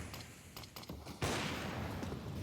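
Grenades get thrown during a professional Counter-Strike match on the Mirage map: a few quick mechanical clicks and taps give way to a sudden burst of hissing noise that lingers at a moderate level.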